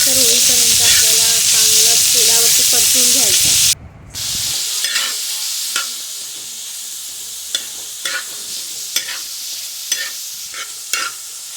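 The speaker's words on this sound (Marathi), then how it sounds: "आता आपली फोडणी मस्त तडतडली आहे त्यामध्ये मी कांदा बारीक चिरलेला कांदा टाकते" Finely chopped onion hits hot tempering oil with a loud, dense sizzle. The sizzle then drops to a softer, steady frying hiss, with sharp clinks and scrapes of stirring.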